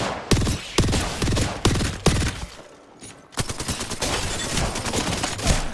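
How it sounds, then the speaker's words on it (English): Gunfire in the video game Apex Legends, bursts of rapid shots and heavy impacts crowding close together, a short lull, then dense sustained firing, loud and near. "they're shooting at me"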